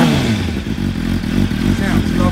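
A salvaged Suzuki GSX-R motorcycle engine idles loudly and close, its steady throb hunting unevenly with a recurring knock.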